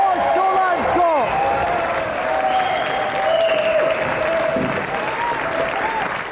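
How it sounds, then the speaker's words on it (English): A studio audience at a television video-game show claps loudly and continuously, a dense, even wash of applause throughout. "Round of applause, ladies and gentlemen, for our 3 planks."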